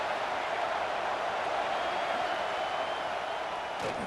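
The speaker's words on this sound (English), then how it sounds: "This crowd bringing the energy and noise early." Football stadium crowd at an Illinois versus UCLA game keeps up a steady, dense roar throughout, a loud continuous wash of distant voices with no distinct words.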